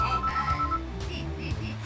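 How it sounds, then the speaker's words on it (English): A telephone ringtone from the WarioWare, Inc. video game plays alone as a bright repeating electronic melody over a steady synthesized backing, with no one speaking. "Phone!"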